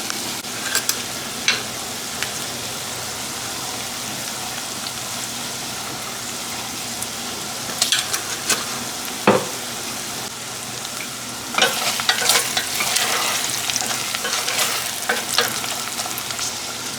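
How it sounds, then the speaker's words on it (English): Chopped garlic and red pepper flakes fry in a pan, giving a steady close sizzle with occasional louder crackling bursts and stirring clatter, with no talking. "we're just going to let this garlic cook long enough to basically warm up"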